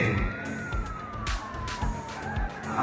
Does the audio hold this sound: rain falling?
no